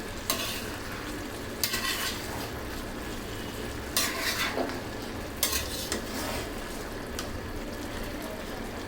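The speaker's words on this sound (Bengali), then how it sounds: "একটু নেড়ে চেড়ে দিব চালটা" Rice being turned over in a biryani pot on low-to-medium heat, a steady bubbling sizzle with several scraping strokes of a spoon against the pot.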